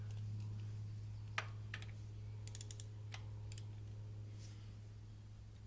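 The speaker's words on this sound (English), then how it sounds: "The best way to break these plugs loose is to tap on the handle" Sharp metallic taps ring out from a 3/8 ratchet handle being struck to loosen an oil drain plug on a Honda CRF230L, a few irregular clicks over a steady low hum.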